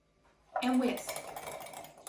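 A whisk stirs a lemon, Dijon mustard, Worcestershire and garlic powder dressing in a bowl, starting with a sharp clink and then settling into a steady, quiet scraping and swishing for a couple of seconds, close and with no voices.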